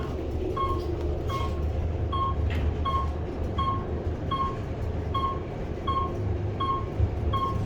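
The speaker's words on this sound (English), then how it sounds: "It's the elevator shaking." Steady low rumbling and rattling of an Otis traction elevator car shaking in its shaft at The STRAT Hotel, Las Vegas, with regular faint clicks repeating about every half second; no talking.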